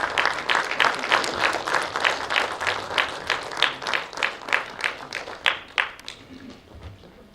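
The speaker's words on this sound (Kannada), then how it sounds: "ಜೋರಾದ ಚಪ್ಪಾಳೆ." Loud applause from a crowd at a film pre-release event, rhythmic and in unison with strong regular beats, easing off toward the end as faint background talk emerges.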